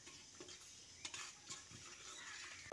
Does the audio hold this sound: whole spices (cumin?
yes